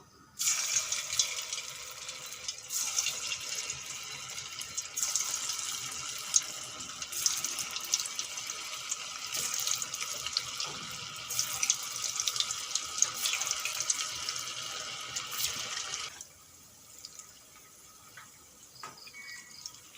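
Cabbage pakora balls sizzle steadily in hot oil, a dense continuous bubbling hiss close by that runs on for most of the stretch before easing off near the end, with no talk over it.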